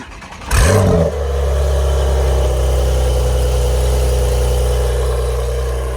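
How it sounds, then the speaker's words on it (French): A modern Porsche 911 Carrera 4S turbo engine cranks and fires up with a sharp rising roar, then settles into a deep, steady idle close by. "On passe au démarrage de la 911."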